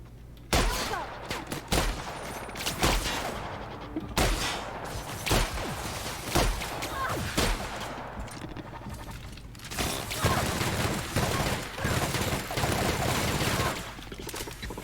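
Repeated gunfire in The Outer Worlds, a video game, with sharp shots and bursts going off irregularly for about fifteen seconds, loud and close, with clattering impacts and no talk over it.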